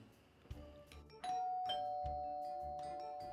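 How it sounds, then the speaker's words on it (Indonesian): A doorbell rings inside a home, a bright two-tone chime that sounds once and then rings on with a long sustained tone, near and clear, with no talking. "ada suara bel"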